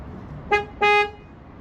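A Ford vehicle signals that key programming is complete with two short horn chirps, the second longer, heard close against a low background hum.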